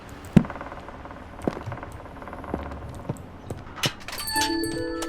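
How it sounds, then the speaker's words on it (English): A crested owl in the video game Botany Manor gives a chime-like call. Soft scattered taps come first, then bright ringing chime tones sound close by near the end. "in turn the plant has grown dependent on the owl's chime-like call to grow"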